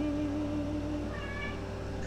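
Cat meowing in a room with steady low hum and tonal background, a couple of short mewing calls rising over the drone, moderately close.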